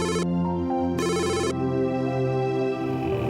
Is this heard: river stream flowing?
no